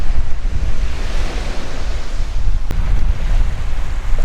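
Ocean waves and strong wind buffet the microphone beside a coastal road being eroded by the sea at Shark Bay, Western Australia, a loud continuous roar with one brief sharp click.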